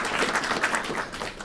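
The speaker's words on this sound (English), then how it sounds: "give a round of applause for Evelyn, everybody" Audience applause at a stand-up comedy show, a short burst of steady clapping from the room that holds at moderate level and tapers slightly at the end.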